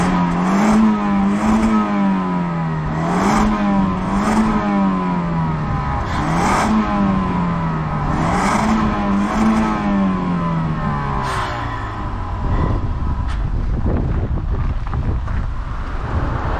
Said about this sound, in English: let's do a sound check and then we'll go for a drive